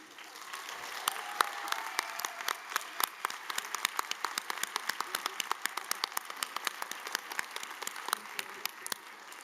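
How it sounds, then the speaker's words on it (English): Applause at a college commencement ceremony, many hands clapping in a steady, crisp patter with distinct individual claps audible, continuing evenly for the full stretch at moderate loudness. "Can we please give a round of applause to Claudine?"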